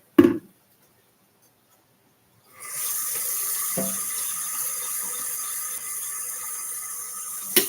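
A coffee pot is rinsed under a running kitchen tap: after a brief clunk and a pause, steady water pours for several seconds, with a knock midway and another clink near the end.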